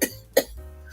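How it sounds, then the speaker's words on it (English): A person coughs sharply twice, a burst at the start and another just under half a second later, close and fairly loud, with a low hum in the room behind. "it's just a palpitation that makes me cough"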